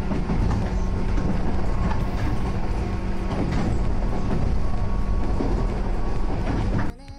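An old Japanese National Railways-era 103 series electric train on the Bantan Line roars loudly along the rails, a dense continuous rumble with clattering wheels heard from on board, dropping suddenly near the end.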